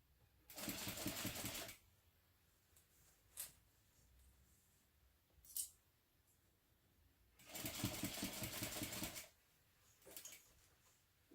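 A sewing machine stitches a mini backpack in two loud, steady runs of rapid needle rhythm, each lasting a couple of seconds, with brief quiet clicks and handling sounds between them.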